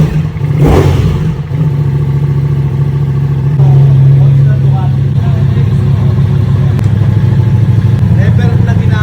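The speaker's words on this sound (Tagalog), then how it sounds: "Namiss ko yung tunog ng motor" A BMW 1300GS motorcycle fitted with a new full exhaust runs at a close, steady, loud idle with a deep drone, while people talk nearby over it.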